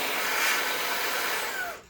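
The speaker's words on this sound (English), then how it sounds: "you can hear how well it's blowing as well, or inflating something, or using it to clean" A Fanttik V10 Apex 4-in-1 handheld vacuum runs as a blower, making a loud, steady, close airy whoosh for nearly two seconds before it cuts off.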